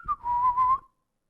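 A person whistles one clear, sustained tone after a short opening chirp, holding a fairly steady pitch before stopping abruptly into silence, close and alone in a ghost recording.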